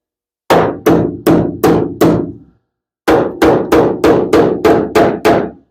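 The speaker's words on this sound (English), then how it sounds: "I'm going to check that with a hammer" Hammer blows on welded metal to test the welds while a wheelhouse is sealed: five sharp ringing strikes, a pause, then eight more in an even rhythm, loud and close with no talk.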